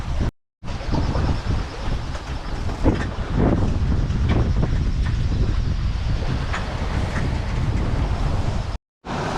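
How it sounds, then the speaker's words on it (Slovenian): Strong wind roars around a sailboat under sail, a loud, continuous rumbling buffet with gusting swells. It briefly cuts out near the start and the end, and no one speaks. "danes je kar dovolj vetra, tako da lepo jadrava, super gre"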